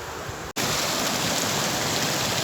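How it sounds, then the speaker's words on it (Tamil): Water pouring steadily over the overflow weir of a full village tank, a dense, loud, unbroken rush up close that drops out for an instant and then resumes. "மறுகால சரியான தண்ணி போயிட்டுருக்கு."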